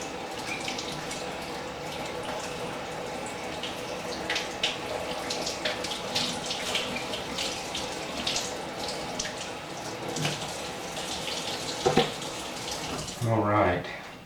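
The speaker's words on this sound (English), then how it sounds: "I'll run a little bit more water through it." Tap water runs through a traditional muzzleloader barrel, a steady splashing stream with some drips, and a louder gush and clunks near the end.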